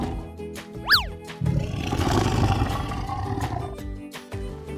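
A tiger roars in a playful toy zoo diorama scene: a quick rising whistle-like tone comes first, then a loud, broad, rumbling roar holds for several seconds before trailing off.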